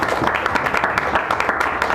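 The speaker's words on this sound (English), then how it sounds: "give him another round of applause" At a poetry reading in a San Francisco café, an audience gives a poet another round of applause, dense, close clapping from many hands filling the room at a steady level.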